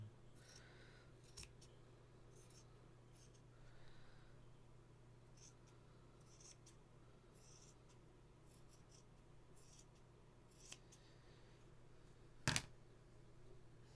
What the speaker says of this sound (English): I think I'll just trim it because it's yeah, okay. Let's just trim this.